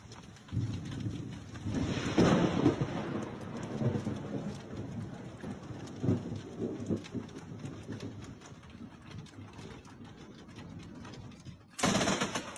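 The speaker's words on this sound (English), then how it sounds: "This is like one of the weirdest lightning strikes that I've seen." Thunder from a lightning strike rumbles long and deep through steady rain, loud and rolling near the start, then fading into rainfall, with a sharp burst at the end.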